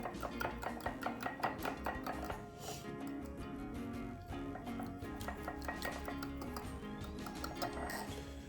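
Eggs whisked in a bowl for egg fried ramen, a quick, steady run of clinking taps close by that keeps going for the whole stretch, with no talk over it.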